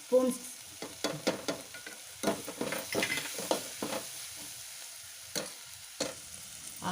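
Garam masala, coriander powder and chaat masala frying in a pan for a paneer bread sandwich filling, heard as a soft sizzle broken by frequent short scraping and stirring clicks at an uneven rhythm.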